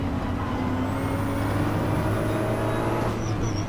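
A high-pitched brake squeal from Max Verstappen's race car on the Nordschleife rises and holds over a steady mechanical drone, then cuts off near the end.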